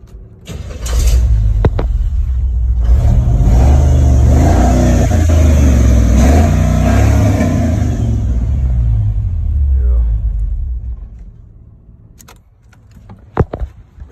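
A 1985 GMC Sierra 2500 truck engine revs loudly nearby, a deep sustained roar swelling and holding for several seconds before easing off, with a few clanks afterward.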